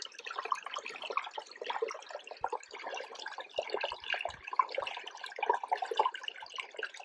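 Stream water is poured into a backpacking water filter bag outdoors near a lake, a continuous irregular splashing and gurgling that rises and falls in close, uneven bursts.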